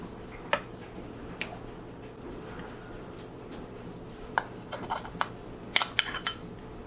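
A spoon scrapes and clinks against a dish while custard pudding is scooped out, a few faint isolated taps early and then a cluster of sharper clinks near the end over quiet room tone.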